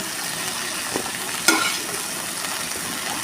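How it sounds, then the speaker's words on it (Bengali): Fish pieces fry lightly in a pan, giving a steady, even sizzle with one short clink of a utensil partway through, close and alone without any voices. "একদম হালকা করে একটু ভেজে নিয়েছি এবার আমি এটাকে তুলে নেব"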